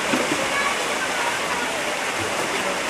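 Heavy rain pours in a dense, constant roar like rushing water, loud and unbroken throughout.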